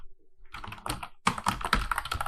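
Keys clatter on a computer keyboard during quiz input, a brief tap or two followed by a dense, close run of rapid keystrokes.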